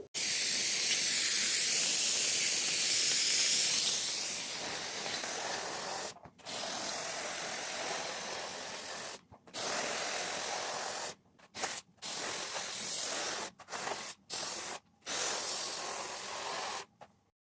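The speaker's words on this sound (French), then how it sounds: "je vous laisse écouter le vapeur que ça donne" Loud, steady hissing of steam bursts from a Bestron high-pressure multifunction steam cleaner in long blasts that stop and start several times, with abrupt silent gaps between releases.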